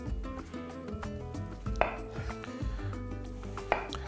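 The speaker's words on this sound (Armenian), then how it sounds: "Բազուկը կտրատելով մանր խորանարդիկների կլցնենք հարմար ամանի մեջ" A knife chops beetroot into small cubes on a board, with a steady run of close, dull cuts and a couple of sharper knocks.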